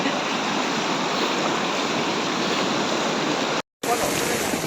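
Floodwater of the Sapua river pours into a village, a loud, steady broadband rush that holds almost unbroken, with one brief dropout near the end.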